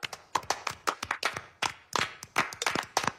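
Audience clapping in a cartoon scene, a short burst of sparse, uneven hand claps, crisp and fairly close, with no voices.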